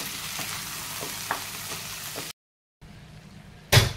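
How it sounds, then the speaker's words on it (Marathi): Cooked mutton being stirred into a sizzling pan for a Kolhapuri mutton rassa, a close continuous frying hiss with soft scraping stirs, briefly cut to silence, then a sharp louder burst at the end. "आणि जे शिजलेलं मटण आहे ते घालून घेऊया। हे सर्व मिक्स करून घेऊया।"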